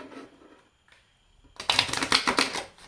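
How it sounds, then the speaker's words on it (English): A quick burst of tarot cards being shuffled, a crisp rapid flutter that starts after a short quiet stretch and runs for about a second. "let me just do a quick shuffle."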